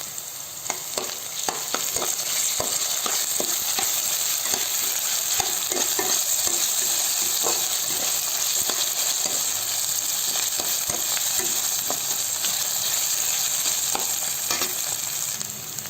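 Ginger garlic paste sizzles and fries steadily in hot oil in a pan for rava khichdi, with a continuous bright hiss and scattered spoon stirring scrapes throughout, close and loud, no talking.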